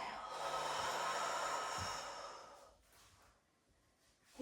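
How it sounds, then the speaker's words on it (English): A long, breathy exhale during a gentle yoga stretch pushes out steadily for about two seconds, close and soft, then fades into quiet breathing. "and a big exhale."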